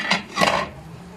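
Milk being stirred in a pan while cooking Filipino chicken pastel, a couple of brief scraping swishes of a utensil against the pan, close and fairly quiet, then fading to low background.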